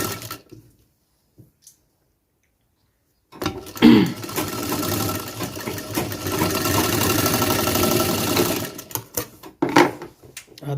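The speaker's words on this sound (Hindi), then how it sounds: "इस तरह से आसन की सिलाई मारें" A tailor's sewing machine stitches the seams of a seat cover, running as a steady mechanical whir for several seconds after an initial near-silence, ending in short bursts as stitching stops and starts.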